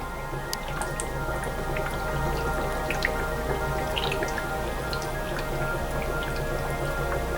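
Oxyhydrogen gas from large wet cells bubbles through an HHO bubbler quencher, making steady soft gurgling and scattered small drips and pops over a low constant hum.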